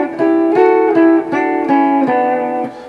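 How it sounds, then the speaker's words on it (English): Two rock or metal guitar lines harmonize in the Aeolian mode, playing a sequence of sustained, ringing notes. The notes change every half second or so, loud and close, with no talking. "So, 2 guitar players can harmonize with each other."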